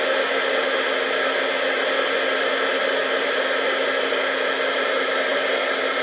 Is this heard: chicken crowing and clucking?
no